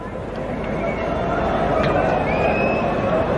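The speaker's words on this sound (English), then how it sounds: "Noisy crowd." A noisy cricket crowd at an India vs Pakistan World Cup match in 1992, a steady dense roar of many voices and cheering, loud and continuous throughout.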